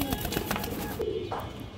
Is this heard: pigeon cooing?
yes